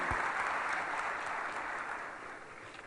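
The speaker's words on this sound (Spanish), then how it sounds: "El aplauso para recibir en nuestro país y en este Encuentro Nacional de Empresarios 2013 al doctor Jeff Puryear" An audience at a national business conference in 2013 applauds to welcome a guest, a steady, even wash of many hands clapping that slowly fades toward the end.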